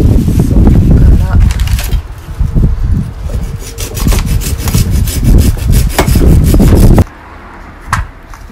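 A handsaw cuts through cherry wood being prepared for smoking chips, with close, rhythmic rasping strokes that stop abruptly near the end, followed by a couple of faint knocks.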